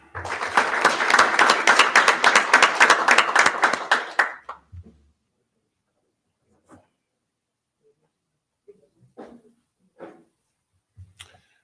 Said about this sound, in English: another round of applause for the graduates, please